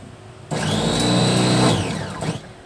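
A food processor chops onions, its motor whirring loud and steady for about a second, then spinning down with a short rattle at the end.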